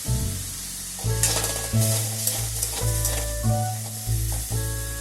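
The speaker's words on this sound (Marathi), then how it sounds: "बटाटा, हे चांगलं परतून घ्यायचं आहे आपल्याला।" Potato filling for aloo paratha, seasoned with salt, lemon juice and coriander, sizzles in a pan as it is stirred and sautéed, with steady frying crackle broken by repeated scraping strokes of the spoon.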